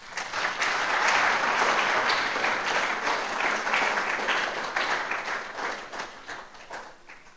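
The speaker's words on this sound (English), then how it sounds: "Rosina needs another applause" Ladies and gentlemen at a founder's week celebration applaud Rosina, a sustained round of many hands clapping that swells early and slowly tapers off.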